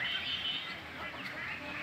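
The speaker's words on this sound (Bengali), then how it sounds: "আপনারা দেখতে পাচ্ছেন কি সুন্দর হাঁসগুলো" Ducks on a duck farm in Ashulia, Savar, with a steady bed of farmyard noise and scattered faint quacks throughout, no clear talking.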